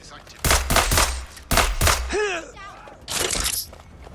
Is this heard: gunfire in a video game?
yes